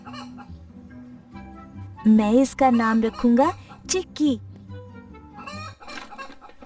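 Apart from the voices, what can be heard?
hen clucking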